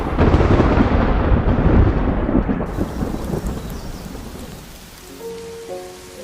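Heavy rain pours down with a deep rumble of thunder, easing into a softer steady patter toward the end.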